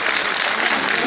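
Audience applause at a speech event, a brief dense burst of clapping from a crowd.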